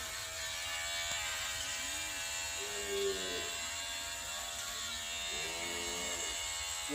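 An electric hair clipper, clogged with dirt from a customer's hair, buzzes steadily and close throughout, with faint voices murmuring underneath.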